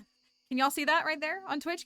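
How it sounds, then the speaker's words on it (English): Ambient crickets from the video game Stardew Valley keep up a thin, steady high chirring in the background, mostly buried under someone talking over it. "We're gonna have to listen to the crickets in the background of Stardew."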